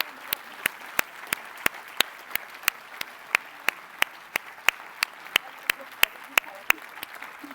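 Applause at a doctoral graduation ceremony, steady dense clapping from an audience punctuated by regular sharp clicks like camera shutters, moderate and continuous.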